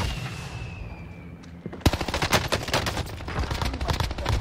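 Rapid bursts of automatic gunfire in a first-person shooter video game, crackling shots fired in quick succession after a quieter ambient stretch, loud and close with no voices over them.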